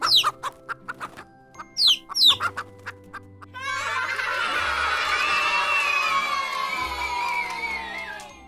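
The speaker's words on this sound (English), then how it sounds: "Baby hen is called a chick." A hen clucks in a run of short, separate calls, and a chick peeps high alongside. A dense chorus of chirping from many birds follows in a flock. No one speaks.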